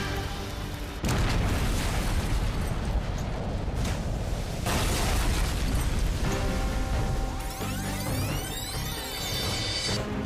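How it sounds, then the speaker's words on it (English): A crude oil tanker blows up as its fuel ignites, a loud, sustained, crackling roar of blast and fire that swells in waves over ten seconds and then settles into a rumbling burn. "The blast from the ignited fuel sends a 20-ton steel hatch cover hurling across the bay."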